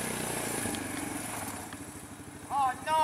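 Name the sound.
Suzuki Ozark 250 four-wheeler ATV engine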